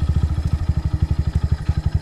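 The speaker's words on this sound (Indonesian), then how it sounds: "buat kalian yang mau denger motornya nih" Kawasaki W175 SE carbureted motorcycle engine idling up close, a steady loud thumping pulse at an even rhythm with a slight mechanical clatter, alone without talk.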